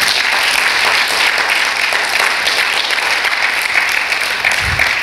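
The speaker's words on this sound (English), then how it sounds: "Let's give the Lord a hand clap right now." A church congregation claps together at a Sunday evening service, a steady, dense wash of hand clapping filling the room from start to finish with no voices on top.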